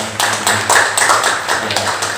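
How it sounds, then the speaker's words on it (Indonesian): A school audience claps for a student, a brief run of light, fairly close hand claps with a faint murmur beneath. "Kita beri tepuk tangan dong untuk Bram sama."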